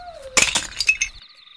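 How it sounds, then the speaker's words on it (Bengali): A foot comes down on a broken clay pitcher, giving a sharp crunching break followed by several clinking, rattling shard sounds that quickly fade into an eerie high tone. "একটা ভাঙা কলসির ওপর পা পড়তেই আমি ভয়ে লাফিয়ে উঠলাম।"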